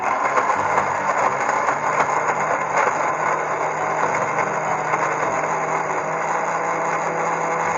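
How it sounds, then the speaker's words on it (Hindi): An electric kitchen grinder whirs steadily while blending mint chutney, a continuous loud motor drone holding at an even pitch without pauses. "अब हम इसको 2 मिनट के लिए चलाएंगे ग्राइंडर को"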